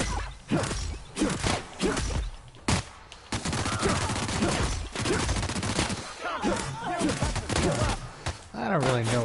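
Weapon fire in The Outer Worlds, sharp repeated shots and bursts interspersed with whooshes and impacts, close and punchy, with a voice talking between and over the shots.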